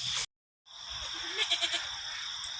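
Goats bleat several times in quick succession on a homestead, heard at moderate distance over a steady background hiss, after a brief dropout.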